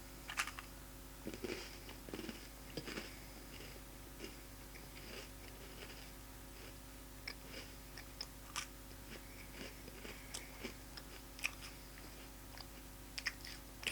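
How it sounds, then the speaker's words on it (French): A new Oreo biscuit is eaten plain, without dunking in coffee: quiet, close crunching and chewing in scattered bursts over a low steady hum, with no talking. "Donc je vais d'abord le manger sans le tremper dans le café."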